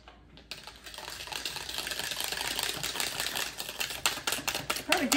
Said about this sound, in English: And then we're going to whisk it